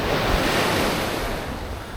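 Ocean surf washing onto a beach at Baekseok Harbor in Yeongdeok in early winter, a steady broad wash of waves with wind buffeting the microphone, loud and continuous with no voices.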